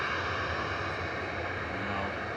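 A Vueling airliner arriving from Barcelona at Manchester Airport, a steady broadband engine roar held at an even level throughout, heard from a distance with no talk over it.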